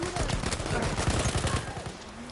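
Rapid automatic gunfire from a DLC weapon, the Fedor, in a multiplayer shooter video game, rattling continuously and loudly for over two seconds, with a faint voice in the background.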